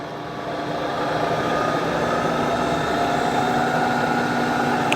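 Head of a used 9 x 49 inch Birmingham variable speed milling machine with manual drawbar, running in its low speed range: a steady, loud mechanical hum and whir that builds slightly after starting.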